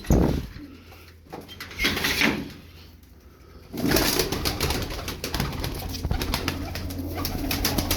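Pigeons coo in soft, low repeated phrases from close by, with a faint hum and shuffling in the background.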